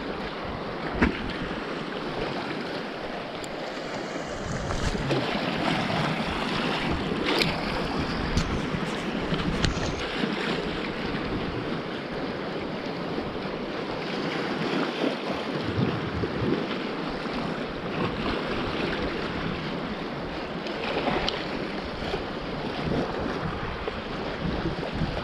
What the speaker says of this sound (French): Les vagues qui viennent se fracasser sur la bordure.